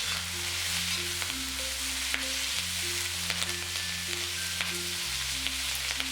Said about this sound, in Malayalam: ഈ ക്യാപ്സിക്കവും സവോളയും ഇട്ട് 2 മിനിറ്റ് ഒന്ന് വഴറ്റിയിട്ട് ഇതിൽ നിന്ന് മാറ്റാം